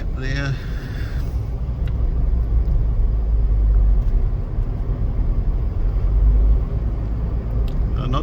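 A car pulls away from a standstill on Kepa Road, a loud, continuous low engine rumble building up close, with a voice briefly heard at the start.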